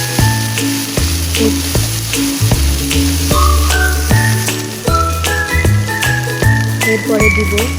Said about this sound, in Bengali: এরপর দিয়ে দেব কাঁচা মরিচ আর পেঁয়াজ বাটা, কিছুক্ষণ নাড়াচাড়া করে নেব।